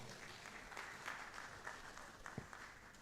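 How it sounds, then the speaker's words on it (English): A conference audience applauds with steady, dense clapping and a few sharper claps standing out, heard from a little distance for about three seconds. "Please clap for our registrar."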